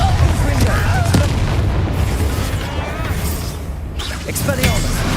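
The Bombarda spell goes off in Hogwarts Legacy, a loud booming blast with crackling, rumbling debris that fills the clip, accompanied by game voices and mechanical battle sounds.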